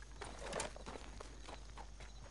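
A horse walking in Red Dead Online, soft hoof clops in an uneven plodding rhythm, faint and close against a low steady hum.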